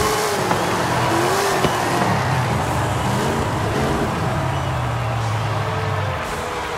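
Chevrolet Impala Super Sport on an all-wheel-drive drag tune in Forza Horizon 5, engine note climbing steadily through several gear changes with a brief tire squeal, loud and continuous with no voices.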